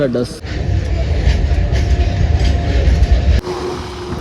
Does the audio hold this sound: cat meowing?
no